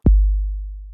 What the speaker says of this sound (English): I'll guide you through the steps needed to achieve classic kick drum sounds like this.